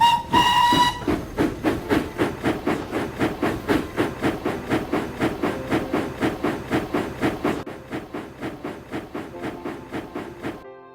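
A steam locomotive of a small class that hauled China clay trains opens with a sharp whistle, then chuffs in a steady rhythmic exhaust with hissing steam, loud and close, gradually fading as it pulls away.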